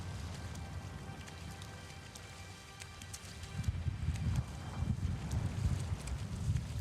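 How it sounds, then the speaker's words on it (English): Rain falls on open water by a fishing spot in The Elder Scrolls Online's Greenshade, a steady soft hiss with fine droplet ticks and a low rumble that swells in the second half; no one speaks. "And it's raining. You can see it on the water."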